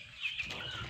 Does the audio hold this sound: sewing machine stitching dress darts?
no